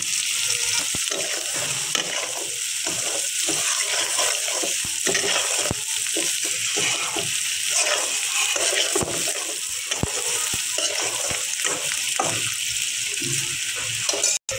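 Whole panch phoron spices sizzling and spitting in a small amount of hot oil in a pan, a loud, steady crackling fry with sharp pops and brief stirring clinks throughout.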